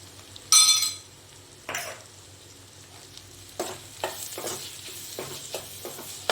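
Beef with garam masala sautés in a pan with a low sizzle, punctuated by a sharp clink early on and then a run of spaced scraping stirs against the pan.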